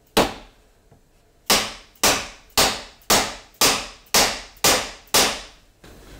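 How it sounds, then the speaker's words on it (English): Eight sharp, loud mallet blows on a block of wood, driving tenons into mortises on a cabinet joint, struck at a steady, even rhythm, each crack ringing out and decaying quickly, with no talk. "it'll put pressure on each one at the same time with every blow of that mallet"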